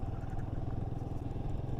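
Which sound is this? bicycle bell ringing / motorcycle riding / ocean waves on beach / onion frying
motorcycle riding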